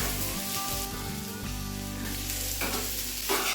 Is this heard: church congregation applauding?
no